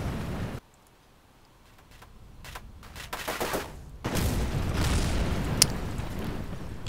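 A loud burst of booming, crackling blasts with a sharp crack near the end, synthetic rocket explosions in Kerbal Space Program rolling continuously for several seconds.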